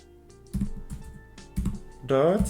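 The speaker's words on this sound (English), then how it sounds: "Anyway, let me just type it." Keys clack on a computer keyboard in uneven bursts of sharp taps while a Linux command is typed, and a voice comes in near the end.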